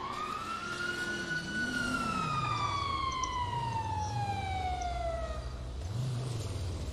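A video game police car siren wails loud and steady, a long rising-then-falling tone with bright harmonics over a low, undulating engine drone, with no talk.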